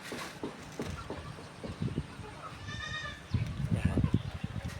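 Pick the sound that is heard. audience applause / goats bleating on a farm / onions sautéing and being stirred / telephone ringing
goats bleating on a farm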